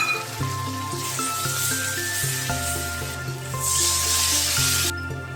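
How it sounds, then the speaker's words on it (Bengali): Cumin, ginger and green chilli paste dropped into hot oil already holding turmeric and Kashmiri chilli, giving a steady, loud, close sizzle and hiss that runs throughout with a few louder surges, while background music plays underneath. "জিরে, আদা, কাঁচা লঙ্কা একটু পেস্ট করে রেখেছিলাম, এটা দিয়ে দিচ্ছি।"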